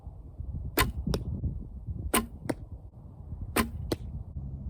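During archery practice, three arrows fly in turn, each a crisp release snap quickly answered by a solid thwack into the target, clear and close against a soft, steady background hum.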